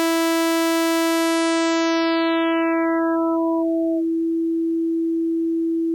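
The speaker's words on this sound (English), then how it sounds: "We're left with more or less a sine wave." A steady pure sine tone holds alone, first joined by a stack of harmonics that drop away one after another from the top down until only the single fundamental remains, loud and constant.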